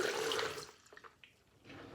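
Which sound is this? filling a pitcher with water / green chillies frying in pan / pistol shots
filling a pitcher with water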